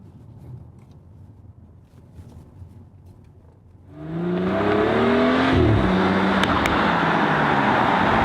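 BMW X3 M40i SUV from 2018 in sport mode: quiet cabin idle suddenly gives way to a loud engine surge, revs climbing with a brief gear-change dip before settling into sustained strong acceleration.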